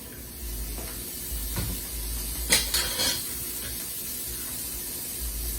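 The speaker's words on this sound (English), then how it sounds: "And now we have some of the carrots. Once again, we just want to just a little light saute." Carrots are lightly sautéed in a pan during a locust bibimbap cooking demonstration, giving a steady, even sizzle and hiss throughout with a few brief louder bursts. A person says a couple of words.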